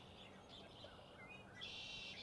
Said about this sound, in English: You hear a few red-winged blackbirds in the background.